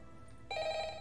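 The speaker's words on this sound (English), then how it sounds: "There's a phone ringing." A telephone rings inside a zombies map in a video game, a steady electronic bell tone starting abruptly midway and continuing loud and close to the end.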